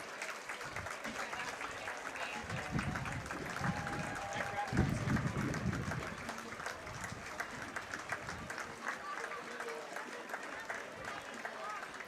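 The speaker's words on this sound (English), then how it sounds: "You can hear the crowd clapping and giving support and praise, recognition for our veterans" A crowd along a Fourth of July parade route in Hingham claps for passing veterans, scattered applause building and fading over about twelve seconds, with voices talking over it.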